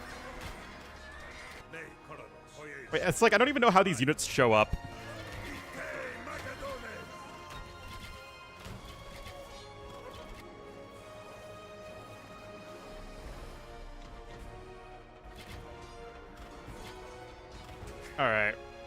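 Horses neigh and whinny in the strategy video game Chronicles: Alexander the Great, with a loud burst of whinnying early on and another near the end, set against clopping hooves, battle noise and someone talking.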